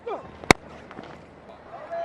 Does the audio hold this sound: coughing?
no